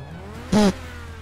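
One short, loud burst of a car engine revving, rising in pitch and then cutting off against a quiet hum.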